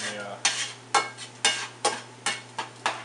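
Bell peppers sautéing with salt and pepper in a pan, a soft sizzle broken by regular scraping stirs about every half second, close and moderately loud with no talking.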